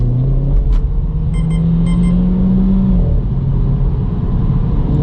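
A Renault Sport Clio 220 Trophy engine in sport mode drones steadily from inside the cabin, its hum rising slightly in pitch and then settling, with a few faint electronic chimes.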